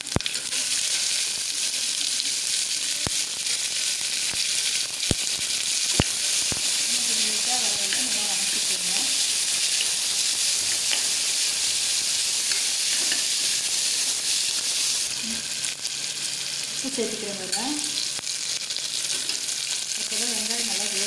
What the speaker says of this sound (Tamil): வெங்காயம் சேர்த்துக்கலாம்.